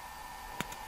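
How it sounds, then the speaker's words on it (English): Two quick, faint clicks of a computer mouse during Mitsubishi MELSERVO-J5 servo drive software configuration, the second softer than the first, over a steady low hum. "Just click in here."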